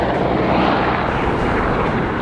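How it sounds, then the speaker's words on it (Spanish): A helicopter flies past nearby, filling the air with a loud, steady, dense roar of engine and rotor noise throughout. "está haciendo pasadas el helicóptero que lo estoy grabando"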